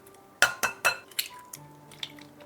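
A spoon stirs coffee, chocolate and sugar in a bowl for brownie batter, striking the bowl in three sharp, close clinks followed by lighter, scattered taps, with no talking.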